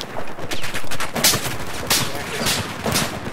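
Loud, close gunfire in the shooter Battlefield 4 during an Operation Locker close-quarters match, with a burst of rapid shots followed by several sharp separate cracks, and faint voice chat underneath.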